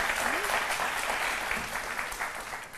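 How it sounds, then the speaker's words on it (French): Audience applause at a midday TV show, a dense steady clatter of many hands filling the room, with a faint voice briefly audible underneath before it tapers slightly. "J'aimerais qu'on applaudisse un peu pour eux quand même."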